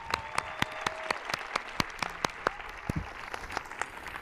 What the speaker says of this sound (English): give a round of applause to our teachers and our staff